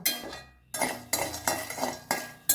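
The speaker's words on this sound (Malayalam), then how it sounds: "കുറച്ച് നിലക്കടലയും കൂടെ വറുത്തെടുക്കാം" Peanuts dry-roasting in a pan for a Kerala sesame and flattened-rice snack make loud, irregular bursts of rattling, scraping and metallic clinks as they are stirred.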